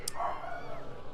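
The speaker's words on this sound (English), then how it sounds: "Sometimes my pup tends to just want to bark." A pet dog gives a single short yip near the start, with a higher bark-like whine that follows, heard close up against faint background game sound.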